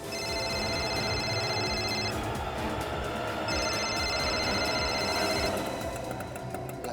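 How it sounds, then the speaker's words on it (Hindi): A telephone rings in a tense scene from a police crime drama, two bursts of bright electronic trilling separated by a short pause over a steady background hum. "तुम जल्दी फोन लगाओ उसे"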